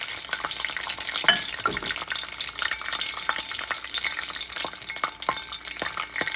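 Ginger, cinnamon, cardamom and cloves frying in about three tablespoons of oil for stuffed capsicum with chicken mince, a busy crackling sizzle with stirring scrapes and a few sharp spatters, close and steady.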